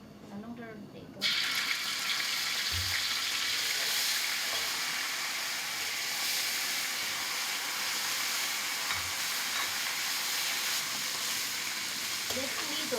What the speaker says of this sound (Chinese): 我几个一下煎的话，全部包到一起了，分开煎